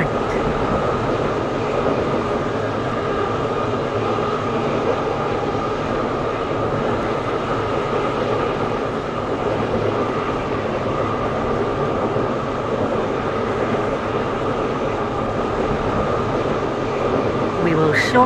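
Class 720 electric train rolling along in the Stepford County Railway game between Stepford Central and Whitefield, a steady loud carriage rumble and hum with faint clatter running throughout.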